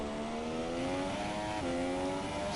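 A Force India Formula 1 car on a lap of the Russian Grand Prix circuit in a racing video game: a loud, steady high-pitched engine whine climbing in pitch, with one brief dip at a gear change before rising again.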